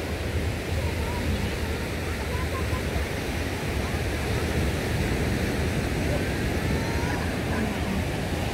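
Waves wash steadily onto Shek O Beach at high tide, a loud, continuous broadband roar of surf close by, with no distinct breaks between swells.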